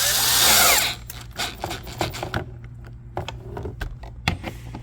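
A power tool drives 7mm-head bolts holding the interior door panel on a 2017 Ford F250, in short bursts of whirring and ratcheting interspersed with clicks and handling noise, close and fairly loud.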